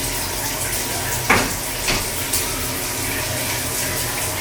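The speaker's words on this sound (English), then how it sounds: "I need to go bathe, which is why the shower is on." A shower runs with a steady, dense hiss of spraying water close by, broken by a few brief splashes or knocks.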